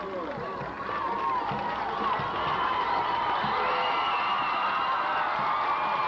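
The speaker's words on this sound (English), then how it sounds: "Their crowd has really come alive." A high school football stadium crowd at a 1987 Corbin versus Belfry game roars and cheers continuously, a dense, loud sustained wall of shouting and whooping heard from the stands.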